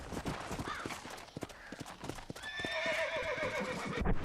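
Horse hooves clip-clop in a steady rhythm close by in Red Dead Redemption, followed by a loud, clear whinny in the final seconds, with no talk over it.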